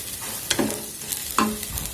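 Bitter gourd stir-frying in a pan: a steady soft sizzle broken by two distinct scraping stirs of a spatula, close and clear.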